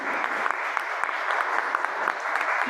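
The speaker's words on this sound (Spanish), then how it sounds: "me gustaría que le brindemos un fuerte aplauso tanto a los organizadores como a nuestro ponente que nos acompaña" An audience at a morning talk on social security at CCH Naucalpan claps for the organizers and speaker, a brief, steady burst of many hands at moderate distance.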